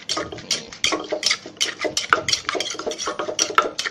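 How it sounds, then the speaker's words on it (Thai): Sour mango salad being tossed with fish sauce in a bowl, utensils clinking and scraping against dishware in quick irregular strokes, close and bright with no voices. "ใส่มะม่วงลงไปเลยครับ มะม่วงเปรี้ยวนะฮะ ใส่เลยครับ ปรุงรสด้วยน้ำปลาครับ คลุกเคล้าเข้ากันครับ"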